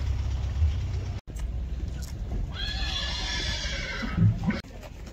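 A horse at the Zharkent livestock market gives one loud, whinnying neigh midway, with hoof clops, an idling engine and market bustle around it.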